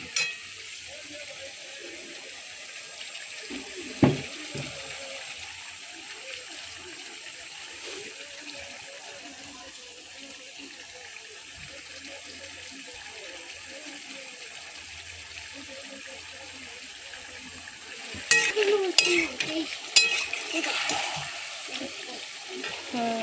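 Chicken stomach fries quietly in a pan with a faint, steady sizzling hiss. A few louder clatters and scrapes of stirring come early on and again near the end.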